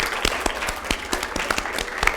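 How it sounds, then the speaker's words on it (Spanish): A small audience at a humor event claps briefly, with a thin scattering of distinct hand claps, near and moderately loud, over about two seconds. "Aplausos."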